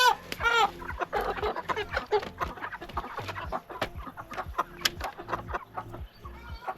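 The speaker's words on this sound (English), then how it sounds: "that's 149 chickens in crates" Many chickens cluck and squawk in busy overlapping bursts as they are caught and packed into crates for the butcher, close and loud throughout with no talk.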